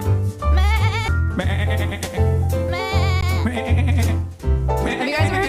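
Sheep bleat in a short recording, several wavering cries one after another, fairly loud and close, with no talk over them.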